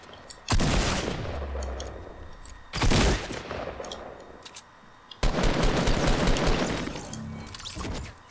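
Heavy bursts of Fortnite Battle Royale gunfire in three loud volleys, each a dense rattle of rapid shots with sharp impacts, separated by short lulls of quieter background.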